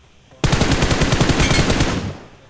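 Automatic gunfire in the mobile game PUBG Mobile, a single rapid burst of evenly spaced loud shots lasting about a second and a half, then fading.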